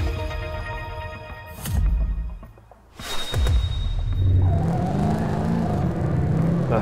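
Car engines racing in the Top Drives mobile game, with a loud revving engine surging and fading, a brief drop, then sustained engine roar and tyre noise continuing to the end, no talk.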